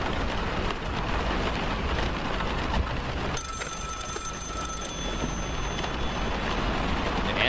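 A telephone rings in a horror audio drama, a bright ringing tone lasting about a second and a half that rises over a constant wash of rain-like noise.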